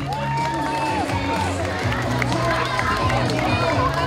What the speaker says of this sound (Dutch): Mag ik een daverend applaus voor Arsema